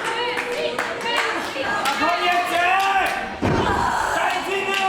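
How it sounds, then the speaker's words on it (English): A professional women's wrestling tournament final: a body slam thuds hard onto the ring mat, with an arena crowd clapping and cheering throughout and a commentator talking over the action. "Scoops up Cara now, slams her down."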